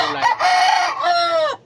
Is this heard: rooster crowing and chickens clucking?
yes